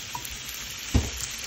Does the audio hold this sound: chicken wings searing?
yes